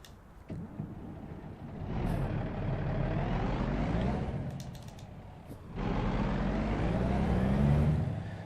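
A Volvo truck driving in American Truck Simulator, with a steady low engine drone that rises and swells across several seconds, a brief dip midway, and a few faint clicks on top.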